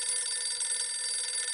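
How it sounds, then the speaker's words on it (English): An animated cartoon telephone rings with a continuous shrill metallic bell, loud and close throughout, with no talking. "Just can't stand the sound of a phone ringing."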